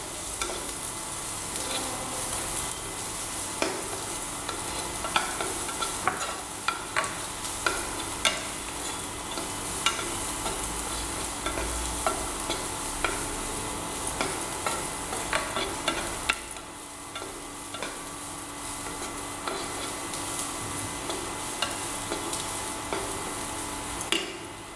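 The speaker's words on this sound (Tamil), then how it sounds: "பச்சை மிளகாய் நன்றாக வதங்கியதும் நறுக்கி வைத்த சின்ன வெங்காயம் போட்டு நல்லா வதக்குங்க" Green chillies and chopped small onions sizzle and fry in a pan for crab soup, a steady crackling hiss broken by repeated scrapes and knocks of a spoon stirring, with no talking.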